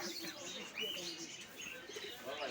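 Pigeons and parrots are kept for sale at a busy bird market. Faint chirps and tweets rise over a low murmur of distant crowd noise and voices.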